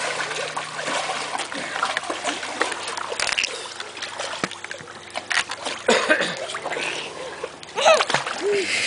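A child splashes into a swimming pool close by, with repeated sloshing and water splatter throughout and people talking over it.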